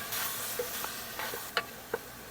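Vegetables sautéing over medium heat in a pan after browned bits are scraped up, a steady close sizzle broken by a few sharp scrapes and stirs of a utensil, with no voices.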